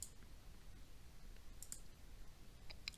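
Mouse clicks while working in Adobe Illustrator 2024, a few sharp, faint clicks scattered over a quiet, low hum.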